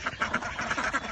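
About fifteen ducks quack repeatedly at feeding time as rice is given to them, a close, busy run of overlapping nasal calls with no talk over them.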